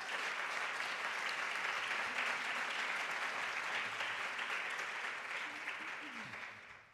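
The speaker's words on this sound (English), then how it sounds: "Let's give them a round of applause." An audience at a panel discussion on food culture applauds the panelists with steady, full clapping that holds for several seconds and then fades away.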